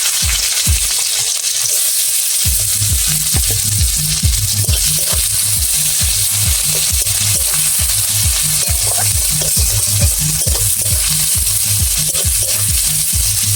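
Onions frying with whole cumin in hot oil for a bhola fish curry, a loud steady sizzle with repeated rhythmic scraping and stirring strokes against the pan.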